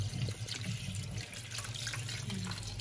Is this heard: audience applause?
no